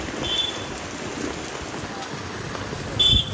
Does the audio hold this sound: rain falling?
yes